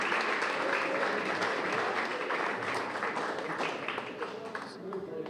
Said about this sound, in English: Let's give another round of applause for Elizabeth Mitchell.